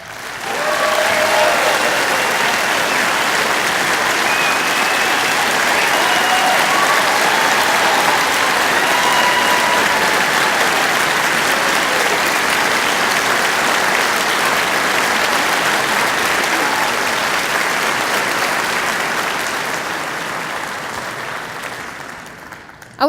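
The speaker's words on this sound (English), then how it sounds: "Please hold your applause until all are announced" A large audience at an awards event applauds the judges, a dense, loud and sustained clapping that holds steady for about twenty seconds before tapering off.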